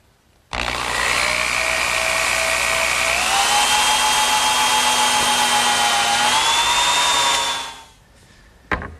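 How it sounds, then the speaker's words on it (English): A power drill bores a pivot hole through a wooden spinner for a harvest table. It whines steadily and loudly for about seven seconds, its pitch stepping up partway through, then winds down. "the first thing that I'm going to do is drill a hole for the pivot point."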